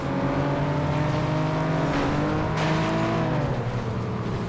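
Race car engine in the video game FlatOut, a loud continuous whine with harmonic pitch lines sliding up and down as the car revs and shifts, steady and close throughout with no talk.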